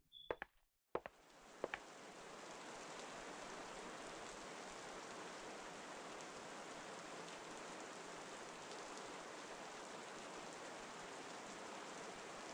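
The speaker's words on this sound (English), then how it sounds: "It's raining cats and dogs outside." Heavy rain falls in a game scene from Maybe: Interactive Stories. A steady, dense wash of rainfall starts after a few brief clicks and then holds evenly and loud for the rest of the clip.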